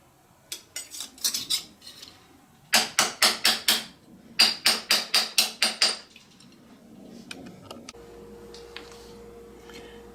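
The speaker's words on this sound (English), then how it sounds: "that was using the bracelet mandrel from Potter USA with a ball peen hammer" A ball peen hammer strikes a metal cuff bracelet on a steel bracelet mandrel in quick bursts of sharp ringing clinks, in runs of about five blows each, close and loud.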